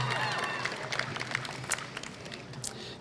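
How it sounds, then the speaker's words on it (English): Audience applause at an MLK Day of Celebration and Service event, honoring the national anthem performer: steady, dense clapping from a sizable crowd that holds for the whole stretch, with a faint tonal hum beneath. "Let's give him a round of applause."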